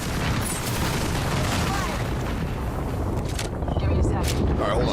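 Gunfire and heavy booms from an Apex Legends match run dense and continuous throughout, a busy wash of shots and impacts with voices talking over it.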